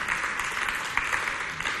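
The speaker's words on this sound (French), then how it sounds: "Applaudissez pour ce charmant match entre ces deux équipes très talentueuses." A crowd claps after a holiday match between two teams, a short burst of steady applause with a few sharper claps standing out, no talking.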